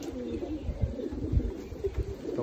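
Iraqi pigeons coo in low, soft, repeated throaty calls over a steady background murmur.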